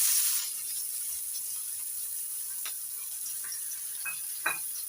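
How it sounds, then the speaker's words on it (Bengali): Chopped onion with black cumin seeds sizzles in hot oil over a high gas flame, a soft steady hiss with a few light clicks of stirring. "এবার পেঁয়াজটা ভালো করে ভেজে নেব লাল লাল করে"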